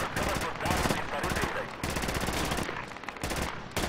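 Rapid automatic gunfire in the military shooter game Project Reality, loud sustained bursts broken by brief gaps, continuing throughout the clip.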